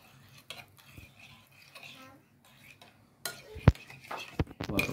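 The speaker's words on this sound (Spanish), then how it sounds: "Y esto lo voy a remover un poco." A spoon stirs salt cod salad dressed with olive oil in a bowl, a few soft scrapes followed by sharper clinks of utensil on dish near the end. A voice murmurs faintly at times.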